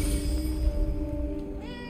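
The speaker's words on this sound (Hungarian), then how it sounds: "Itt is egy macska." A cat meows once in the Forspoken video game world near a mausoleum, a sustained tonal cry that rises at the end over a dense, steady game music and ambience bed; no speech.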